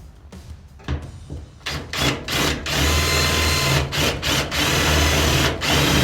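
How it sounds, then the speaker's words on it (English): A power driver runs screws into the floor panel of a 1989 Classic Mini during restoration, with several short revving bursts that build to a longer, loud continuous whir close by. "So let's get some screws in."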